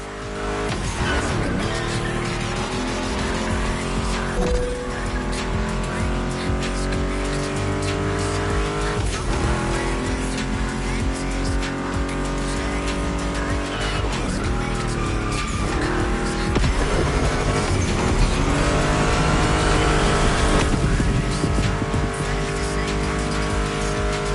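Ford Mustang GT muscle car engine in The Crew video game, a loud continuous engine roar rising and falling through gear changes with tire squeal and skidding throughout.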